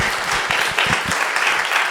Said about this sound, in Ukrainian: оплески цьому